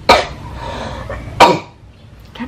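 A person coughs hard twice, each burst loud and close, with a softer throat sound trailing at the end and no talk in between.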